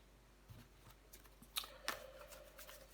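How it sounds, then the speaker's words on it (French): Tarot cards shuffled and laid down on a table, a few soft riffles and crisp snaps of card edges, close and quiet with no talk. "Allez, je vais recouvrir des cartes."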